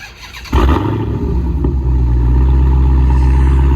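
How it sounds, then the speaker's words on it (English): A Dodge Challenger Hellcat's engine cold-starts with a sudden loud catch about half a second in, then settles into a deep, heavy, steady idle rumble that holds close and loud to the end, with no voices. "before the POV starts, we got to get the cold start in"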